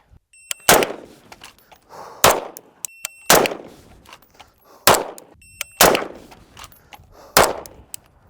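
Pistol shots ring out at a shooting range: about six loud, sharp cracks spaced roughly a second apart, each with a short ringing tail, plus a few fainter clicks in between and no talking.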